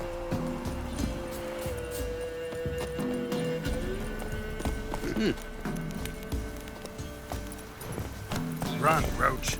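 Roach, a horse in The Witcher 3, gallops in a quick, steady clip-clop of hooves, with a snort or whinny near the end and a faint musical bed underneath.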